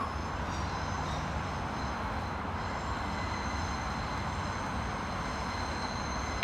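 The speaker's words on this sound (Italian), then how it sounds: "Il treno alta velocità Frecciargento 8816 di Trenitalia, delle ore 15:56, proveniente da Lecce, è in arrivo al binario 7." Trenitalia Frecciargento high-speed train arriving at a station platform, a steady broad rumble of rolling stock with faint high squealing tones above, continuous and moderately loud, no talk.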